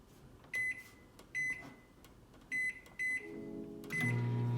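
A microwave oven cooking chicken in a Pampered Chef Deep Covered Baker gives four short, bright electronic beeps as the buttons are pressed, then a low steady hum starts as it begins running.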